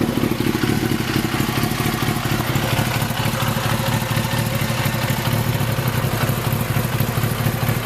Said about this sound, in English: Idling nice and low, nice slow idle.